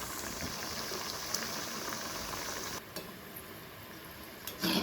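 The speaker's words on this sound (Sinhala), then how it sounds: "මේක දෙපැත්ත හරවලා රන්වන් පාට වෙනකම් බැදෙන්න ආරෙන්න." Flattened rice wade fries in hot oil, a steady, fairly quiet bubbling sizzle that continues throughout, with a short clatter near the end.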